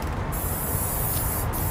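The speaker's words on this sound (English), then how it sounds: "Not him spray painting some shit." An aerosol can of spray paint sprays steadily at close range. It makes a continuous, even hiss throughout with no talking.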